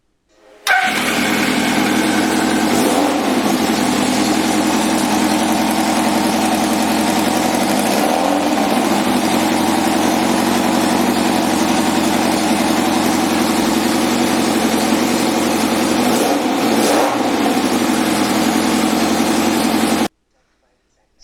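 A homebuilt race mower engine fires up and runs at a loud, steady idle close by, with a few brief swells in revs over its running drone before it cuts off.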